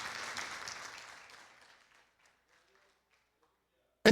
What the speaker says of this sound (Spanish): puedes darle un aplauso a Dios si lo siente, claro que sí.